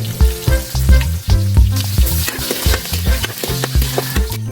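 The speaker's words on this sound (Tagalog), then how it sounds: "Painit lang tayo ng mantika. Lagay natin yung bawang." Garlic frying in hot cooking oil as the first step of a chicken caldereta, a loud continuous sizzle and crackle with stirring clatter throughout, no voices.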